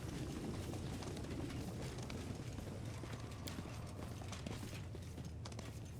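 Horse hooves clip-clopping in the video game Pathfinder: Wrath of the Righteous, a steady, fairly faint run of hoofbeats over a constant low ambient rumble, with no talk.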